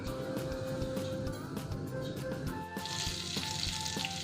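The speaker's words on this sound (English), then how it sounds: "I'll add green coriander, cover it and let it simmer." A covered pot of carrot, beetroot, tomato and leek rasam with green coriander simmers steadily, giving a soft continuous bubbling sizzle close by, with no talking.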